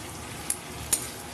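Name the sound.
stirring fish pieces in a frying pan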